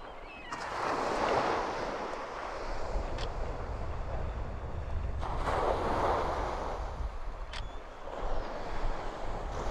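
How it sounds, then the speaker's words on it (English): Small ocean waves at the Jersey Shore wash in as two broad surges about five seconds apart, steady and moderately loud, with light wind noise over them. "Waves are small today."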